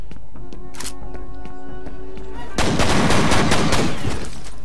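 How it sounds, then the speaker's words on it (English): Pistol shots in the FEAR shooter game: a run of sharp, closely spaced cracks over a humming background, then a sudden loud, sustained burst of crashing impact noise filling the second half. "Fuck yeah, this pistol kick ass."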